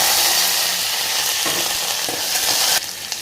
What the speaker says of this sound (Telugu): ఆయిల్ పోసి ఉంచాను. ఫస్ట్ జీలకర్ర వేస్తున్నాను. తర్వాత ఆవాలు వేస్తున్నాను. తర్వాత ఎల్లిపాయలు వేస్తున్నాను.